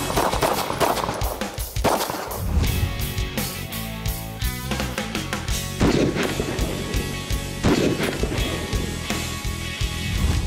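Rapid handgun shots fired at a range, loud and close, coming in quick bursts with echoing cracks and no talk over them.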